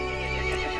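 Horse in the horror game Resident Evil Village, a brief close whinny with a wavering tone, heard under a dense sustained game score.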